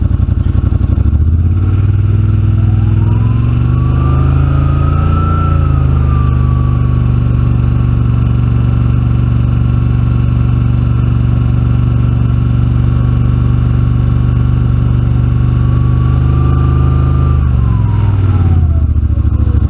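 Yamaha RMAX 1000 side-by-side on its stock tune, fitted with a Hunterworks exhaust tip, heard loud and close as it idles, revs up to about 3000 rpm twice and settles back to idle.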